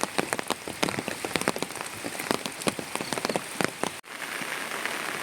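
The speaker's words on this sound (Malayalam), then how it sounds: "മഴയ്ക്ക് ഇപ്പോഴും ഒരു കുറവുമില്ല" Heavy monsoon rain in Kerala falls without pause, a dense, loud patter of drops striking surfaces close by.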